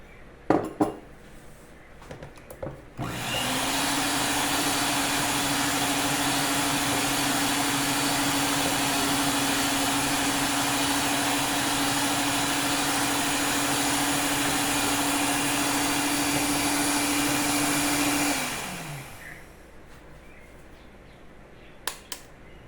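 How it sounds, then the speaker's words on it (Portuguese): A simple electric hand mixer beats cake batter for about fifteen seconds, a steady loud whir with a clattering rattle against the bowl, starting and stopping abruptly. "A batedeira que eu tô usando é simples, não é dessas planetárias, que tem vários recursos"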